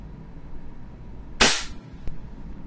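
A silver Cybergun Desert Eagle gas airsoft pistol fires one sharp, loud shot, followed by a fainter click or pop about half a second later, over low room noise.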